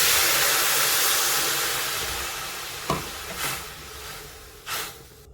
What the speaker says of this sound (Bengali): ঠিক এই পর্যায়ে এসে এতে আমি জলটা দিয়ে দেবো।